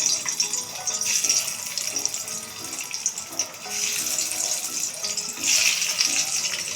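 Eggs frying in hot mustard oil in a wok give off a steady, dense crackling sizzle that swells and eases in waves, close and loud, with no voices.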